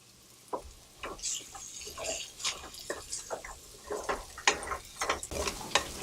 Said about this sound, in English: Mix it up well with your onion that's fried